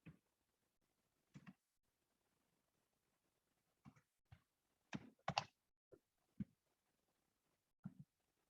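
Scattered keystrokes on a computer keyboard, a few isolated taps and short clusters spread across the stretch with quiet gaps between, faint and close with no talking.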